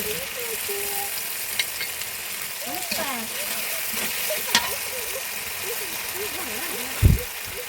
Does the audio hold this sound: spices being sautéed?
yes